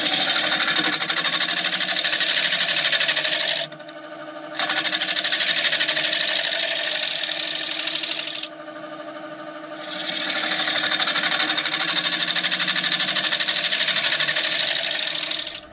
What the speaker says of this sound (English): Just whizzing it back with my my scraper.